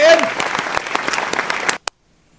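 Clapping and cheering from a small studio crowd on a talk radio show, dense and steady for nearly two seconds before cutting off abruptly, with a brief burst and silence after.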